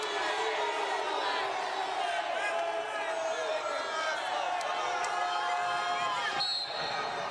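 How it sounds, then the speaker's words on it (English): Crowd at a college wrestling dual meet for Wisconsin shouting and roaring continuously for a stalling call, a loud sustained mass of voices throughout. "Crowd begging for a stalling call here."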